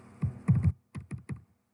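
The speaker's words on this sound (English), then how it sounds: "now I'm going to use my arrow keys to back it up" Arrow keys on a computer keyboard are tapped in short close clicks: a single press, a quick triple run, then three more evenly spaced taps, crisp and alone.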